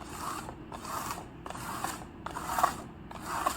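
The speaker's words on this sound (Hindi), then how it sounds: "हमें एक ग्लास से पॉम को हाइड करना है एंड देन उन्हें शफल करना है" Drinking glasses shuffled over a pom-pom on a table, a series of rhythmic scraping slides, about five sweeps at a regular pace with short pauses between, close and fairly quiet.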